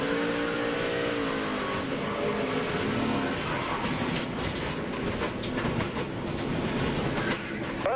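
Onboard NASCAR race car from the 2006 Dollar General 300, its engine roaring continuously and loud as the driver gets on the throttle, a dense broadband drone with rising revs filling the whole stretch.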